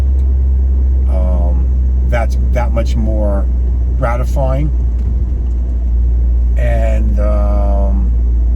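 A truck's engine drones as a steady low rumble under the cab, constant and close, with someone talking over it in bursts.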